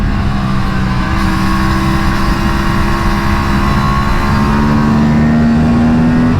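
An Aprilia RS 457 motorcycle pulls hard on a race track with its engine roaring loud and close. The pitch climbs steadily as the bike accelerates, and there is no talking.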